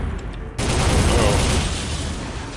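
Loud gunfire in Soldier of Fortune, with a 9mm pistol in use, starts abruptly and keeps firing in a rapid, dense volley for about two seconds, close and harsh.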